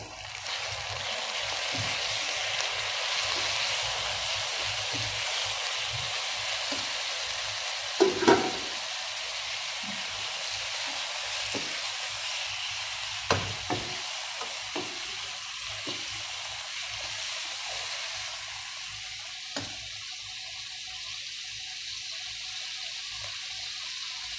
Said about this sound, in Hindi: हाफ केजी हम इसमें कीमा डालेंगे और इसे भूनेंगे।